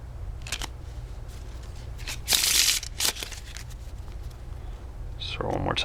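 A Bicycle bridge-size deck of playing cards is faro shuffled by hand, producing scattered soft riffles and crisp card snaps against a low background hum, with one louder burst of rapid flutter midway.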